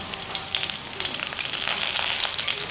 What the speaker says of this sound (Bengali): আমি প্রথমেই একটু প্যানে অলিভ অয়েলটা দেবো।